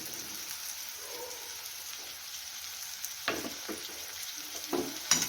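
Onion and garlic fry in a pan with a soft, even hiss, joined midway by a handful of light stirring clicks and scrapes at close range.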